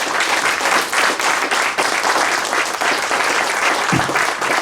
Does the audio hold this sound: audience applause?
yes